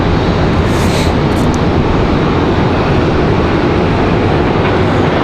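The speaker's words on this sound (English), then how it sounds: "Next arrival is going to be United 2858 coming in from Newark, New Jersey" A United Boeing 737 arriving from Newark at Raleigh-Durham airport gives a loud, dense, unbroken roar that fills the whole moment, close and constant, with no voices.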